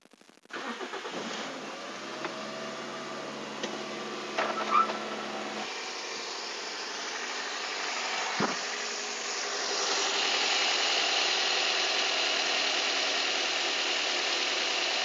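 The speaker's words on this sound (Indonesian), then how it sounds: "Coba kita nyalakan mesinnya." A used 2005 first-generation Toyota Vios Limo sedan starts: a brief crank catches almost at once, then the engine settles into a steady idle hum that grows slightly louder toward the end.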